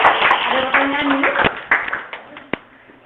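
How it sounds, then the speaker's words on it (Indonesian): A university management tutorial class bursts into brief hand clapping that thins out into a few scattered claps, with voices mixed in. "Kita tepuk tangan dulu dong ya."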